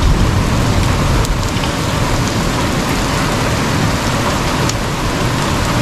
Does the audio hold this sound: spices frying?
no